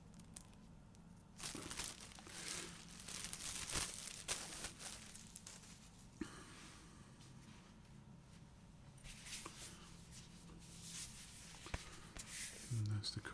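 Shrink wrap is peeled and crinkled off a heavyweight vinyl LP record cover, giving quiet, irregular crackling and rustling plastic sounds with soft handling noises throughout.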